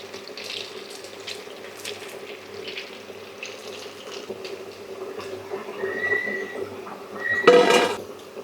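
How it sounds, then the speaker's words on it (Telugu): Pieces of cashew chicken fry in hot oil, and the bubbling sizzle runs as a soft, continuous hiss. It swells louder near the end with a burst of crackling, and no one speaks. "ఆయిల్ అలా బుడగలుగా వస్తుంది కదండి."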